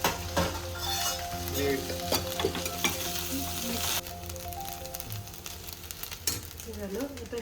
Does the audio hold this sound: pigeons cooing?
no